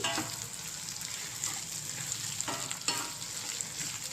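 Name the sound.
bitter gourd slices frying in a pan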